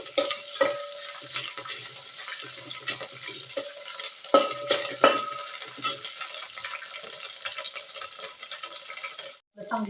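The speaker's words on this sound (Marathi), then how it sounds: "कांदा चांगलं तेलामध्ये फुललं पाहिजे, त्या प्रकारे चांगलं कांदा भाजून घ्यायचं आपण." Chopped onions fry and sizzle steadily in hot oil for a dry mutton dish, with frequent metallic clinks and scrapes of a stirring spoon against the pan, close and continuous.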